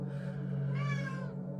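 A cat gives a single soft, rising-and-falling meow, fairly faint over a steady low hum in a quiet indoor room.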